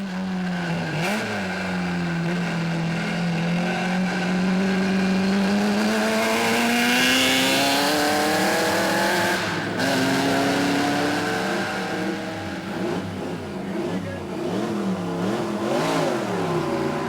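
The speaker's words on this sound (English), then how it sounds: "He came a very, very long way just to drive his Bugatti 512 at the Klausen." A Bugatti 512 racing car with a 3-litre eight-cylinder twin-cam engine races on the Klausen hill climb, its engine howling up through the gears in long rising sweeps, with a brief gap between shifts, loud and close, with no talk.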